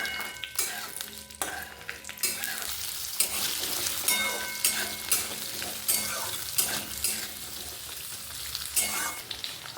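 Whole cumin seeds fry in hot oil with a bright, crackling sizzle, broken by repeated sharp scrapes and knocks of a utensil stirring in the pan, close and fairly loud.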